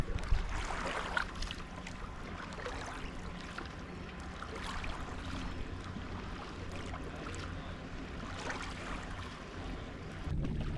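A kayak paddles across a lake in Voyageurs National Park, with soft, steady water swishes and gentle splashes from the strokes under light wind noise, heard up close for the whole stretch.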